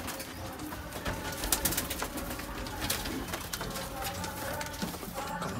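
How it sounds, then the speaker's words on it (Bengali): Mukhi pigeons coo repeatedly at close range in a soft, rolling rhythm, with flapping and rustling in the background and a faint voice now and then. "এই দুটো পায়রা মুখী পায়রা আছে।"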